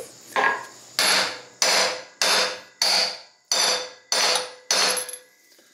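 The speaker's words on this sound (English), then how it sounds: "this makes a perfect striking surface for a hammer" A hammer strikes a wood block set on a stuck engine piston: seven loud, evenly spaced blows about every 0.6 seconds, each a sharp knock with a short ringing decay, preceded by one lighter tap.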